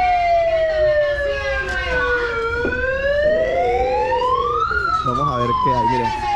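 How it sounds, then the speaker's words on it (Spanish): A store siren alarm announcing new merchandise in a discount shop of returned Amazon goods wails in rising and falling sweeps, loud and continuous, while a voice speaks briefly near the end. "Esa es la alarma de mercancía nueva."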